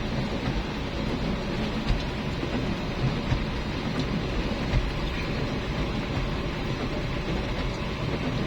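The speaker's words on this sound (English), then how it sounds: "so rainy" Heavy, steady rain pours down at a port in Talibon, a dense continuous wash of noise with a low rumble underneath and no distinct thunderclap standing out.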